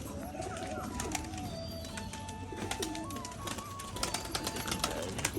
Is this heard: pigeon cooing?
yes